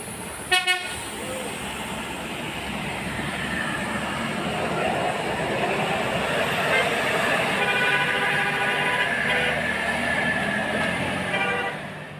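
A Sembodo Eksekutif Plus bus takes the extreme Sitinjau Lauik hairpin bend, giving a short horn toot at the start before a loud, steady engine and road roar carries on to the end.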